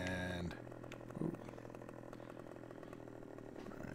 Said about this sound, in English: I had purchased a chainsaw previously